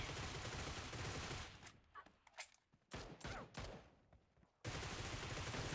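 Gunfire in the mobile shooter BGMI during a team deathmatch, loud sustained bursts of rapid shots at the start and end with a quieter stretch of scattered single shots between them.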